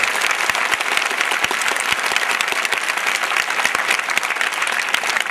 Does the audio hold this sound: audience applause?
yes